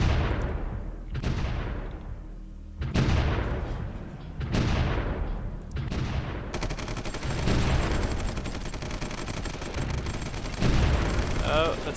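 Artillery shelling and gunfire in the World War II-era strategy game Supreme Ruler 1936, with repeated sharp booming impacts every second or two and a sustained crackling rumble of fire in between, loud and continuous.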